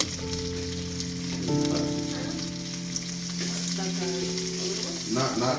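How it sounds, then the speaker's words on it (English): Salmon sizzles steadily in a hot pan while being basted with garlic, a continuous frying hiss with faint clinks and scrapes of a spoon, no speech. "What I also usually do is I'll baste it a little bit."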